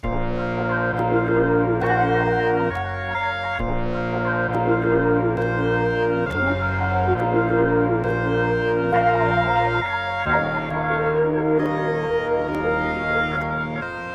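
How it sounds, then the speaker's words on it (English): Melody sample chops in Fruity Slicer pitched up an octave, bright sustained harmonic phrases repeating in short chopped sections with echoey tails, a steady loud level and no voices. "but I pitched it up an octave, which sounds like this"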